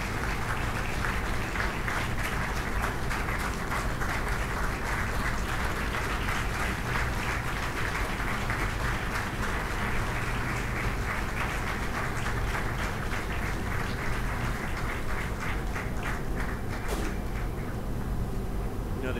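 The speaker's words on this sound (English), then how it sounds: "We give them a round of applause." Steady, dense applause from a large audience at a Lions Clubs recognition event fills the whole stretch, a continuous wash of clapping at constant loudness.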